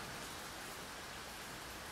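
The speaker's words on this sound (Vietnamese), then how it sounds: "trời mưa to quá" Heavy rain pouring down: a dense, even hiss of falling water, faint and constant for the whole stretch, with no voices.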